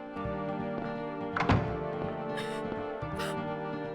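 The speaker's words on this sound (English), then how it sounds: "She starts shambling towards Harry, who runs and closes the door on her." A door slams shut with one heavy thunk over eerie droning music in the survival horror game Silent Hill, followed by softer hissy bursts.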